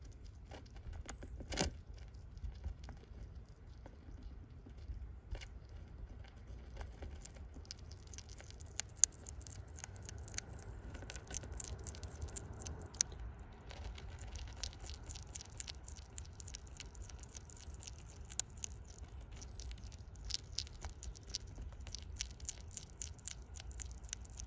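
A young mole feeding up close, giving faint irregular wet smacking and small crunching clicks scattered over a quiet background, with no talking.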